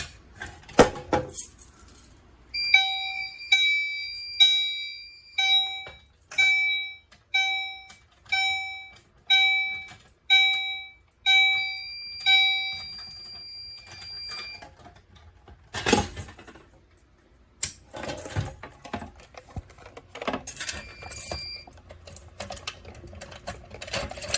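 Fire alarm from a Potter PFC 4064 system set off by a yellow pull station, a regular series of loud electronic tonal beeps pulsing for about twelve seconds before stopping, with some handling noise around it.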